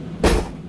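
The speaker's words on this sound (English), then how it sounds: "oops, there went the door." A door swings open or shut inside a house, giving one short, dull thump that stands out briefly above a quiet indoor background.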